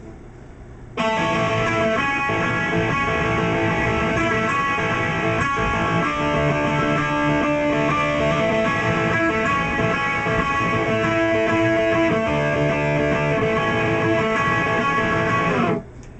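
Distorted electric guitar plays the dense, sustained intro riff of a song at a steady loud level, with chords ringing together, starting abruptly and cutting off at the end.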